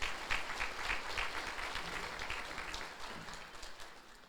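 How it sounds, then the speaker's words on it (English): Audience applause at an annual meeting after election candidates are introduced, a steady wash of many hands clapping at moderate, fairly distant level that slowly tapers over several seconds. "So please join me in a round of applause for these candidates."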